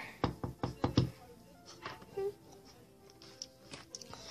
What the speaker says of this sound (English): And I knocked on the door.